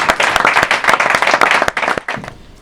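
A small studio audience gives a short burst of brisk, close hand clapping for a woman after her segment on a French dinner show, dense at first and then thinning out before stopping abruptly.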